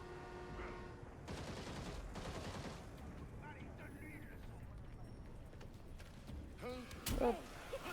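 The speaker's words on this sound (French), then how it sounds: "J'ai entendu des coups de feu." Bursts of gunfire crackle through a busy Gotham Knights game soundscape, with voices talking over it and a sharper, louder shot cluster near the end.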